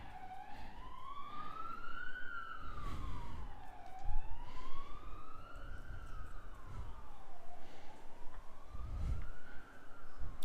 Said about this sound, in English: Apologies if you can hear the siren in the background